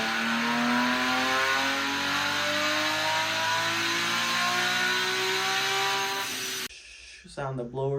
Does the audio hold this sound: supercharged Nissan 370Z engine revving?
yes